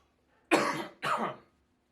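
Two harsh coughs in quick succession, close and loud, with silence before and after.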